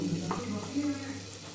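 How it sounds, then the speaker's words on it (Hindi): Fenugreek going into a hot pan while cooking matar paneer, a steady close sizzle and frying hiss that carries on evenly throughout. "मैं डालूंगी मेथी"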